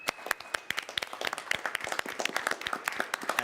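Moderate applause from a small conference audience at a panel, individual claps distinct and irregular, steady for a few seconds.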